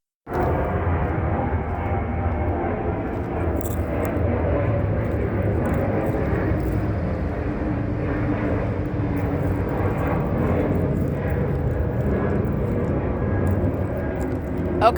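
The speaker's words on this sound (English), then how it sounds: "the Ontario International Airport, maintaining plane activity over the giant dollar store" An airplane passes overhead near Ontario International Airport on an evening above a large dollar store, a steady broad engine roar holding at an even level for the whole stretch with no voices.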